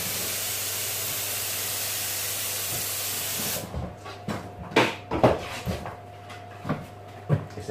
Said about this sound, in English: Now we'll lay the activator down on it.